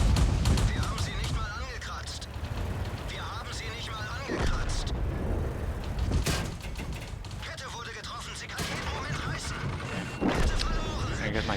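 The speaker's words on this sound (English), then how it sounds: "I'm just basing these guys into shooting all their ammo at me." Tank cannon fire in World of Tanks, with a Panzer II D taking hits. Repeated heavy booms and crashes burst out amid battle noise while a voice talks over them.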